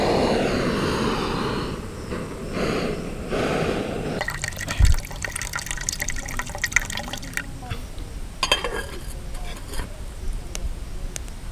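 Water comes to a boil in a pot on a camp stove during motocamping on a hill, with a steady roaring burner and bubbling water, close and continuous throughout.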